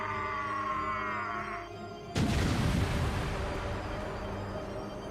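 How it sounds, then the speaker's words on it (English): A giant's collision in the visual novel Demonbane sets off a thundering explosion: a sudden heavy boom that bursts in over a quieter tone, then a sustained roaring rumble that keeps going. "Thundering explosion."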